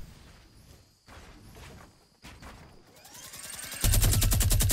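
Rapid gunfire from a minigun in Fortnite Battle Royale, scattered thumps and bursts building into a loud, dense stream of fast repeated shots near the end.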